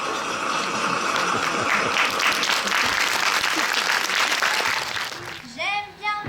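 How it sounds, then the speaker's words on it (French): A theatre audience applauds after a stage play in Château-Thierry, with loud, dense, sustained clapping that fills the room. Near the end the clapping breaks off and a voice begins to speak. "Envoie les applaudissements."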